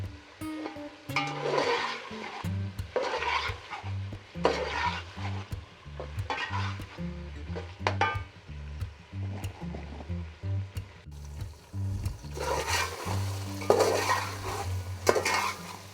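Meat is stirred and browned in a pot, with repeated spoon scrapes and clanks against the metal in uneven bursts over a soft sizzle, close and without speech.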